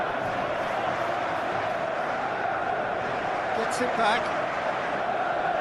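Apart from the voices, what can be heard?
crowd cheering in a football video game simulation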